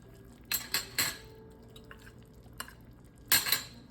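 A spoon stirring rotisserie chicken into black bean soup in a metal pot, heard as a few sharp clinks and scrapes in quick succession, then a lone tap and a final pair of close clanks, with no talking.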